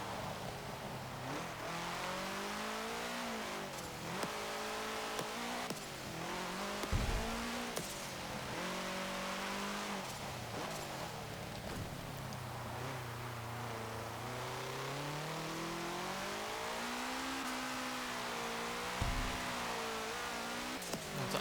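A 1968 Abarth 595, a tiny short-wheelbase car, drives in the Forza Motorsport 7 racing game, its engine revving continuously and rising and falling in pitch through gear changes, loud and close with occasional tyre noise.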